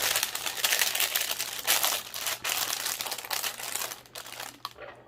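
Parchment paper crinkles and rustles near at hand as it is positioned over a can koozie before heat pressing, a steady crackling handling noise with uneven surges that thins out toward the end.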